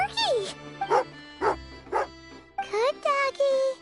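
A dog in a video game set in Snezhnaya gives a series of short, loud, close barks and yips with whimpering pitch slides, in quick bursts separated by brief pauses.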